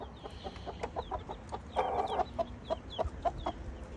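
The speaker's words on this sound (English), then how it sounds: "Little chickens." A mother hen and her little chicks cluck and peep in a coop, with repeated short clucks and chirps close by, fairly quiet and without talk.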